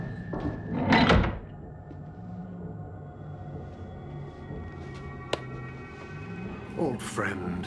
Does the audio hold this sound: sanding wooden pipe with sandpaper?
no